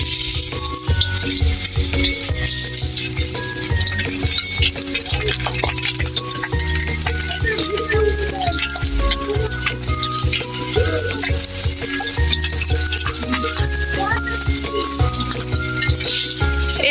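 Fish frying in hot oil in a wok makes a loud, steady sizzle that hisses continuously and close up, with no talking.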